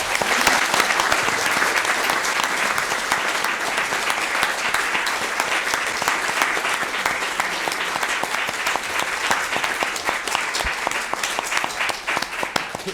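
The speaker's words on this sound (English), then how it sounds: "Please do give me a big round of applause for our speakers." An audience gives a long round of applause for the speakers, dense steady clapping that stays strong and even from start to finish.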